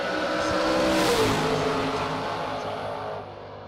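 Drag race cars, a Chevette and a Corvette, launch at a drag strip with a loud, roaring engine blast that swells quickly and then fades slightly as they pull away.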